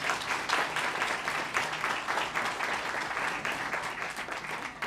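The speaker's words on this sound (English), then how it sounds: "Round of applause." Audience applause after heartfelt thanks at an evening event, a steady wash of many hands clapping, dense and even for about five seconds without talk.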